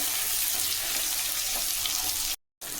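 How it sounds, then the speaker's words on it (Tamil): Sliced large onions sizzle and fry in hot oil for a brinjal thokku, a steady, dense crackling hiss that runs unbroken for over two seconds before cutting off abruptly. "இந்த அளவுக்கு நல்லா பொரிஞ்சு வரணும் வெங்காயம்"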